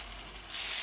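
Fish sizzles lightly in a hot pan for a homemade fish curry, a soft, steady frying hiss that swells louder halfway through the brief moment.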